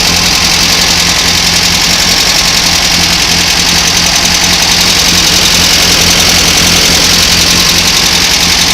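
A VW 2-liter engine on gravity-fed fuel with an aftermarket valve cover runs close and loud, holding a steady idle with an even, slightly knocking pulse and no talk.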